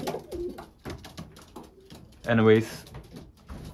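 Racing pigeons coo inside a loft, one clear throaty coo standing out midway while someone talks before and after it.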